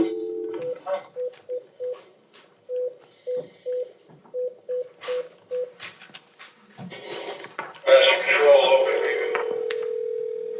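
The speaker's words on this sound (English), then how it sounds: "I will make that phone call" A telephone number is dialed in a courtroom: a run of about fifteen short touch-tone beeps in uneven groups, then a brief gap of shuffling noise and a ringback or line tone that holds steady to the end, with faint room sound beneath.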